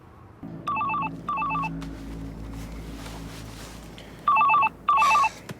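A mobile phone rings behind a closed apartment door in four loud electronic bursts, a soft pair and a louder later pair, over a low hum and faint background tones.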